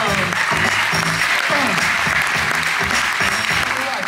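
A cruise ship audience applauds loudly and continuously for comedian Troy Thirdgill, with music playing underneath the crowd's clapping.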